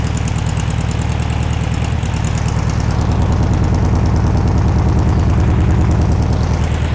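Air-cooled 1500 VW Beetle engine, not run for 50 years, now running loud and close with an even, rapid, slightly knocking idle throughout, no voices.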